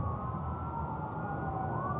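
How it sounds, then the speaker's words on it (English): An ambulance siren wails steadily from start to finish, its sweeping tone rising and falling over a constant road hum, as in a passing vehicle heard within an audio drama. "they passed the ambulance with its sirens blaring"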